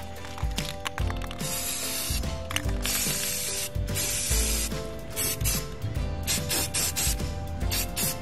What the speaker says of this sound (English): It's kind of hard to hold the camera and spray paint at the same time.